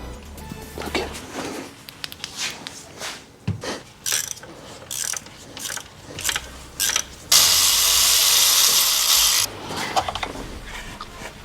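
Ratchet wrenches click in bursts while a starter motor is removed from a VAG car fitted with a DSG7 DQ200 gearbox, with metallic rubs and clunks, close up and no talk.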